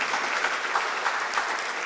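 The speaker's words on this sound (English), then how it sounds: "Can we have a round of applause?" A short burst of audience applause at a fashion technology event, with rapid, evenly spread claps from a moderate crowd and no talking.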